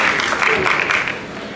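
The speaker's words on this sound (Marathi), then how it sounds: "एकदा जोरदार टाळ्या अभिजितसाठी" An audience breaks into applause for Abhijit at a Marathi film trailer launch, a burst of clapping that is loud for the first second, then thins and fades.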